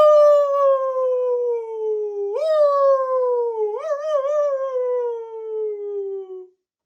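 A person imitates a wolf howl, a single sustained voiced wail lasting about six seconds that bends upward twice in rising swoops before tapering off, close and loud with no other sounds.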